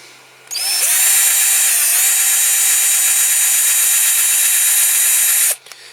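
A power drill whines loudly and steadily as it drills out rivets on a Matchbox King Size K8 Guy Warrior car transporter, spinning up sharply and holding one sustained high-pitched run for about five seconds before cutting off.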